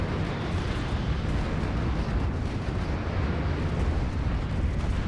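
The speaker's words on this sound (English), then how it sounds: "My big battleships with their big green lasers absolutely doing tons of damage to these cruisers now" Big green lasers from Stellaris battleships pound enemy cruisers in a space fleet battle, a dense, continuous roar of weapon fire and impacts with no letup across the whole stretch.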